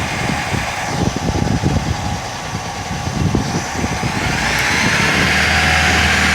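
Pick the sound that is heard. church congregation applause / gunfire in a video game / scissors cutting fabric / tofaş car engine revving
tofaş car engine revving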